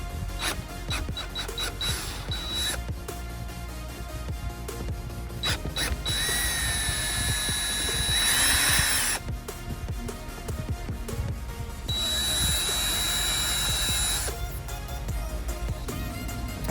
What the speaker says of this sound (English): Now let's remove these 10mm bolts.